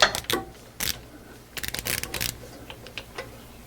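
A torque wrench tightens a bolt on a Mercedes Sprinter transmission with quiet, sharp mechanical clicks and ratcheting ticks in short irregular bursts, close by in an otherwise hushed workshop.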